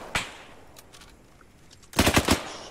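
Arma 3 base gunfire: scattered faint single shots at first, then a louder rapid burst of five or six rounds near the end, with no voices.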